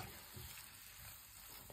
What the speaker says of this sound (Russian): Все, пару минут жарим и можно выключать.